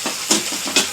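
Tomato puree masala for paneer butter masala sizzling in oil as the oil separates, with close, bursting spits and hisses in a few quick pulses.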